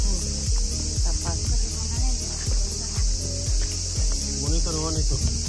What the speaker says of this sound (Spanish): Muchas cigarras, suena muy bonito.